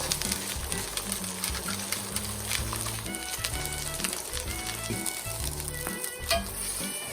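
Kofta meat frying in olive oil, a steady crackling sizzle with faint clinks and knocks from the pan throughout, fairly quiet and close.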